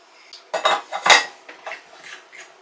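Parts of a metal meat grinder clatter and clink as they are assembled in an RV kitchen: several sharp metallic knocks and scrapes in quick, irregular succession, close and clear, with no talk.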